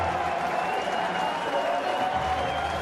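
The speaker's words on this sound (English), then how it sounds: "the crowd cheering for the Sharks coming to the sideline" Rugby crowd at the Twickenham Stoop cheering and applauding the Sharks during a Challenge Cup semi-final against ASM Clermont, a steady wash of clapping and cheers at moderate distance.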